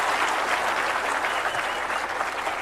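Sustained group clapping from a school audience at a tribal affairs gathering fills the room, a thick even wash of applause at constant loudness from start to finish, with no speech on top.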